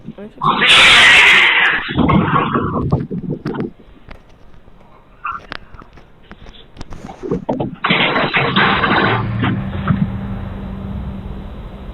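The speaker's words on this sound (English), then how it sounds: "Stormy violently hisses at something that we can't see" Stormy the cat lets out a violent, breathy hiss in a sharp, loud burst near the start, followed by scattered knocks and movement noises, while people talk throughout.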